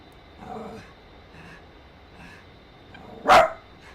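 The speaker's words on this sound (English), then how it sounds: "Dog, stop." A dog indoors gives soft whimpering yips, then one sharp, loud bark near the end.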